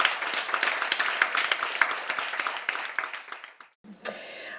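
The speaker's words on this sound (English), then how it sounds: "Let's give this incredible woman a round of applause." An audience at a public conversation on art and social change gives a speaker a round of applause, lively close clapping that thins out toward the end, then a brief voice speaks.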